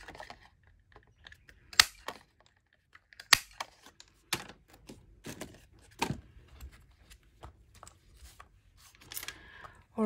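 Sharp, separate clicks of a hand punch cutting buttons from printed book pages for junk journal ephemera, about eight snaps spread unevenly over ten seconds with quiet rustling between them, close and fairly soft.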